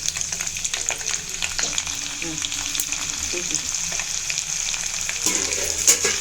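About fifteen garlic cloves sizzle steadily in hot oil off the heat for a tempering, a continuous crackling hiss with occasional pops and faint stirring clinks.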